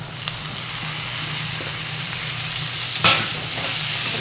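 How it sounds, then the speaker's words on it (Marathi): Shredded cabbage is stirred into softened fried onion and tomato in a pan, holding a continuous close frying hiss with a few light scrapes and one louder clatter near the end. "चांगले हलवूया."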